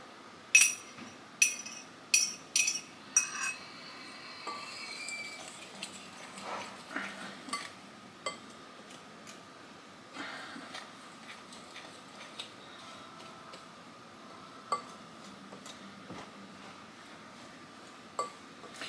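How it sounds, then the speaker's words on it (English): Egg is mixed into blackberry cobbler batter in a bowl, with a utensil clinking and scraping against the bowl, quick sharp taps at first and then slower, softer strokes, close and alone. "we're just going to keep mixing this until it gets kind of like little pea-like"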